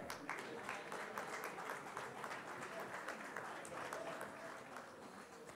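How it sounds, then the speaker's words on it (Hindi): Audience applause at a public event welcoming the speakers, a steady dense clapping from a crowd filling the room and fading slightly toward the end. "let's welcome, sir, with a huge round of applause as well"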